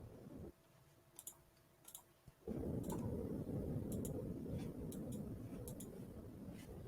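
A computer mouse clicks several times in sharp, quick isolated ticks while building a Webflow CMS filter, scattered across the clip over a low background hum and rustle.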